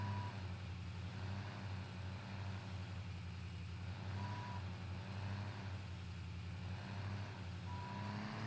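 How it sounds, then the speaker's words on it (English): A dump truck in the farming game Valley of the Old Farm idles with a steady low engine drone while its reversing alarm beeps at slow, regular intervals, moderately close and alone. "Trick with a dump truck here is to try to get it to keep emptying."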